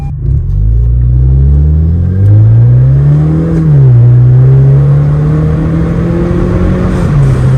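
Car fitted with a throttle controller accelerating hard, its engine note climbing steadily, easing briefly, then rising again. The steady, close, loud drone carries no talk.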